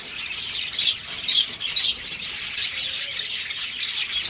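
Java sparrows kept as breeding pairs in clay pots chirp and twitter in a busy, overlapping chorus, close and fairly loud, with no talking.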